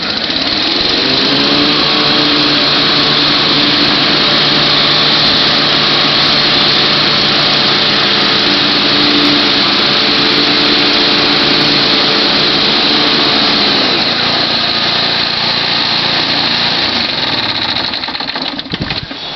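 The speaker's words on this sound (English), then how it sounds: "It's very difficult to do a video and safely operate the mower" Timemaster 30-inch self-propelled walk-behind gas lawn mower running, a loud steady engine drone close by that holds throughout, with a slight shift in tone partway through.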